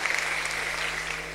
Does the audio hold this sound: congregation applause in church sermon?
yes